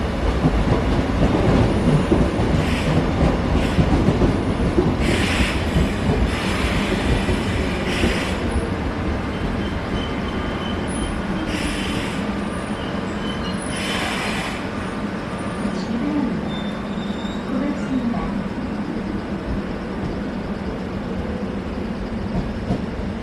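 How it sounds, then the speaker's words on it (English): Retro rolling stock in Seoul rumbles past close by in a loud, continuous clatter of wheels and rail joints, with faint screeches and squeals rising above the din. "That is some seriously retro rolling stock."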